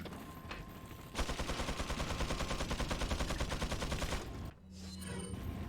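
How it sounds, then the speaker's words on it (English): Rapid, sustained gunfire from the Killer 7 magnum in the Killer7 video game, a dense burst of repeated shots lasting about three seconds before cutting off, loud and up close, with no talk over it. "pull out the Killer 7 on your way back and just shoot him"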